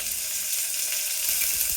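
Curry leaves and vegetables including potato sizzling in hot oil tempering for avarekaalu sambar, a loud steady close frying hiss with a few soft stirring knocks near the end.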